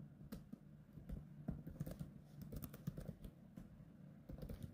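Quiet, steady typing of code on a computer keyboard, with rapid overlapping key clicks in uneven bursts over a low background hum.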